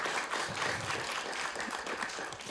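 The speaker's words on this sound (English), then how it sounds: "give him a round of applause" A StorySLAM storytelling event audience gives the evening's host a round of applause, a steady, dense wash of clapping from a crowd that fills the room.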